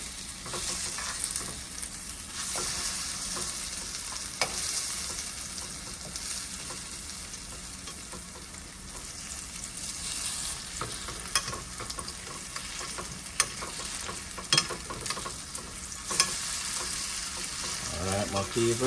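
Vegan pumpkin fritters fry in hot oil with a continuous bright sizzle and crackle. A few sharper clicks and scrapes from turning them with a spoon sound over the bubbling, and no one speaks.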